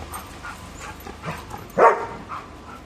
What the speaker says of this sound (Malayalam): ഒരു നായ റോട്ടിലൂടെ പോയാൽ ഡോണക്കുട്ടൻ്റെ കളിയാണിത്.